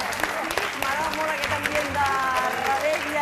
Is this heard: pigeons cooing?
no